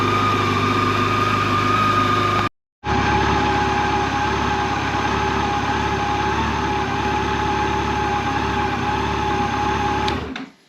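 A 2024 Yamaha FJR 1300ES motorcycle engine idles steadily to warm up, a constant close hum with a brief cut-out near the start before resuming evenly.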